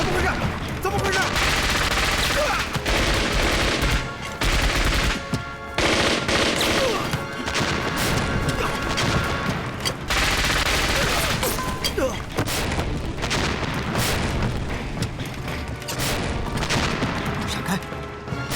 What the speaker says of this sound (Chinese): 爆炸声很大